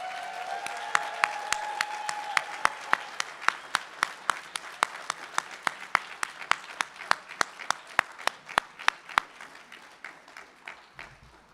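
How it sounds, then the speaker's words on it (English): Applause at a Bemidji graduation ceremony for the class of 2024, a crowd clapping at first, then settling into slow, evenly spaced rhythmic claps that continue steadily for several seconds before stopping. "give a great big round of applause and congratulations"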